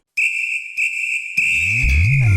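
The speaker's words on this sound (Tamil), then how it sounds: "விசில் அடிச்சனா போலீஸ் வந்து பிடிச்சிடுவாங்க" A shrill whistle blown in a film scene, a loud sustained tone cut by two brief breaks, then joined by low rumbling sound underneath as it carries on.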